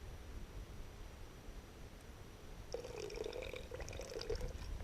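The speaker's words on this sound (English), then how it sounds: "Let's put a little bit of cold water in it." Cold water poured into a pot of freshly perked coffee outdoors to settle the grounds, a soft splashing pour starting midway over quiet background hiss, with no talk.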